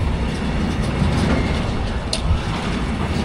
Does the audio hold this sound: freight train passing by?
yes